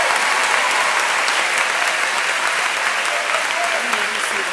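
An audience at a high school honors ceremony gives student award winners a sustained round of applause, loud and even from start to finish.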